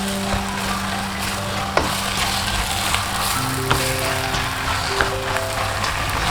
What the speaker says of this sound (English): Now we are going in with our cabbage. And then mix.